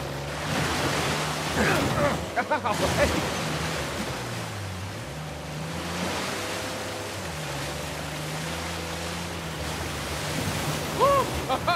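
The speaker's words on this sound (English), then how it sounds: "A secret cave behind a waterfall." Steady rushing water of a waterfall near a hidden cave in the video game Uncharted 4: A Thief's End, a continuous broadband roar with low musical tones and brief effects layered over it.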